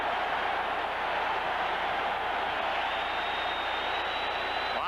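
Roar of the hockey arena crowd at a 1979 Rangers–Islanders playoff semifinal game in New York, a dense, steady wall of cheering that holds loud and unbroken throughout.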